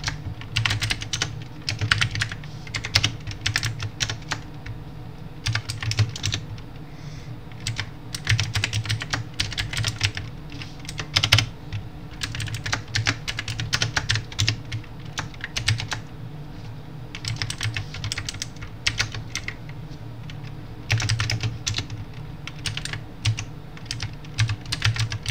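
Computer keyboard typing while a CMake file is written for C++ development in VSCode: a steady, rapid stream of close clicking keystrokes with brief pauses, running for the whole stretch with no talking.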